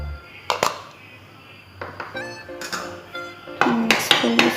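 Metal spoon scraping and clinking against a pan while chili powder and salt are stirred into a brinjal fry mixture, with scattered sharp taps and a few ringing knocks, close and moderately loud.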